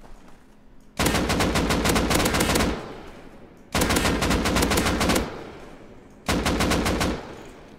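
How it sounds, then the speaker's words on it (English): An AK rifle fitted with a muzzle brake fires in the game Rust in three long full-auto bursts, each a loud, rapid string of shots separated by short pauses, with no talking. "Now let's see how it looks with the AK with the muzzle brake on it."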